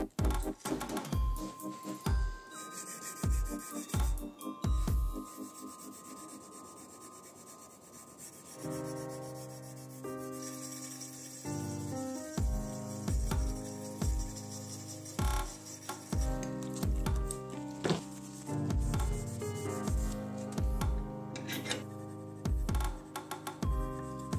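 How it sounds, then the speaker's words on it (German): Repeated hand-polishing strokes on a vintage Solingen multitool's knife blade and saw, rhythmic and close, with quiet tonal music playing underneath. "Wir werden jetzt noch einmal die beiden Klingen, beziehungsweise die Klinge und die Säge, mit der Hand polieren."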